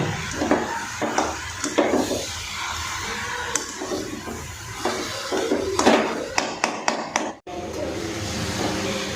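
Chicken pieces stirred continuously in a hot pan give repeated close scraping and clattering knocks of a utensil against the metal, with a steady sizzle underneath and brief pauses between strokes.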